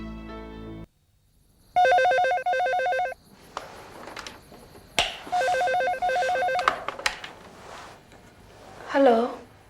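A telephone rings in bursts of electronic trilling, with short pauses between rings, followed by shuffling and a brief voice near the end.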